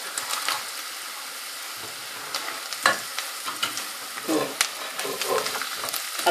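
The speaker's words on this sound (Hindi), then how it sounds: "और ये कौरमा मसाला भी डाल के थोड़ा सा फ्राई करूँगी।" Red chillies, salt, turmeric and korma masala fry in a pan with a continuous close sizzle, broken by several sharp stirring scrapes and clacks of a spoon against the pan.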